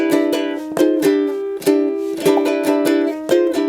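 Plucked ukulele strums and picked notes play a short, bouncy melodic phrase from the intro of a song, close and clear, with no talking.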